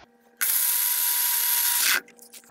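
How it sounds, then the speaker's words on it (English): An electric grinder grinds split peas for chickens in one loud, steady whir of about one and a half seconds that starts and stops abruptly, with quiet room sound before and after. "I grind it up about 8 to 10 seconds."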